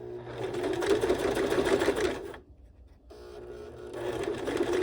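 A sewing machine bastes a pocket onto a sling bag. It runs in a loud, close, continuous rattling stitch, stops briefly near the middle, then starts again.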